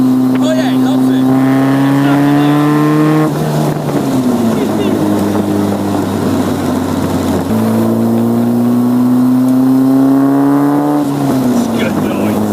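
A Westfield sports car's engine revs hard through a tunnel, loud and close, climbing through the gears in two long pulls with a shift between them, booming off the walls under steady wind rush.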